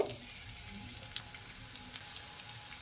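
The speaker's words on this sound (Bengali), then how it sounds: "এবার আমি ওর মধ্যে একটা কুচানো পেঁয়াজ দিয়ে দেব" Mustard oil with cumin and chopped onion sizzles steadily in a pan, a close continuous frying hiss with small crackles and pops throughout.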